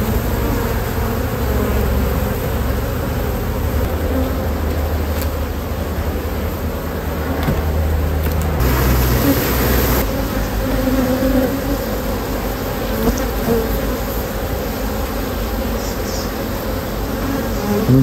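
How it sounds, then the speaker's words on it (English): A dense swarm of honey bees buzzes loudly and continuously close by at a hive, a steady droning hum with no voices. "we've got quite a few bees on here, so I think the best thing to do is to shake them."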